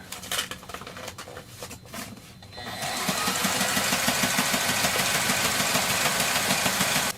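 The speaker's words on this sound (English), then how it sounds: "Here's where this sewing machine really excels, when you have to sew webbing through multiple layers of heavy sail material." A sewing machine starts up after a few seconds and runs steadily through webbing and multiple layers of heavy sail material, its rapid mechanical stitching loud and close, with quieter handling noises before it begins.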